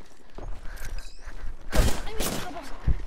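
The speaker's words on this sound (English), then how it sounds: "there's a team firing at us" Enemy squad opening fire in the battle-royale game Apex Legends, bursts of gunshots building into a loud volley midway with a sharp report near the end, over game ambience and faint voices.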